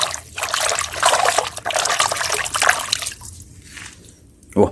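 Water runs and trickles over a blue plastic toy fish as it is rinsed, splashing in bursts with a brief louder splash near the end, while someone talks over it.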